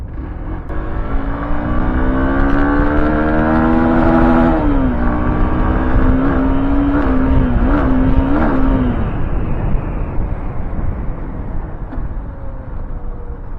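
A Yamaha R15 or Hero Xtreme 200 motorcycle engine pulls slowly up through the revs in a loud, close, droning climb, wavering and then easing off toward an idle.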